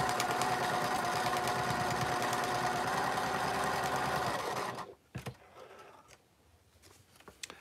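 Sewing machine stitching quilt block pieces, a loud steady mechanical whir and rapid needle chatter running continuously, then cutting off into quiet with a few handling clicks.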